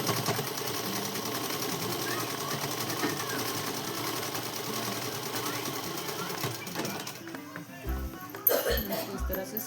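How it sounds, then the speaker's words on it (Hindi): Sewing machine stitching a simple dress runs in a steady, dense whirring drone for most of the clip, then gives way near the end to a few louder thumps and handling sounds as the stitching stops. "इस तरह से सिलाई लगाएंगे।"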